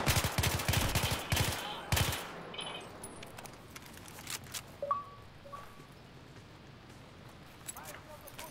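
Shotgun blasts in the video game Battlefield 3, a burst of loud, rapid booming shots over the first two seconds, followed by quieter scattered battlefield noise and a few faint distant pops.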